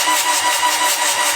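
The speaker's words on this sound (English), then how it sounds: "We're cranking it over with the glow plugs out, of course, so it doesn't have compression" A rebuilt Toyota LandCruiser engine cranking over with its glow plugs out, the starter spinning it in a fast, even rhythmic whirr, loud and close with no firing.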